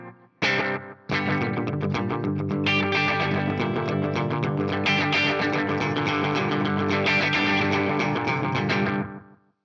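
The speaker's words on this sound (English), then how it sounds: "If you change the delay time and get more into slapback territory, you get this." An electric guitar plays through a BOSS DM-2 bucket brigade analog delay pedal set to a short slapback delay, each strummed chord followed by a quick single echo, loud and sustained for several seconds.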